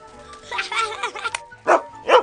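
A dog gives a few short barks and yips, close and fairly loud, in two quick bursts after a stretch of busier sound that may include a voice.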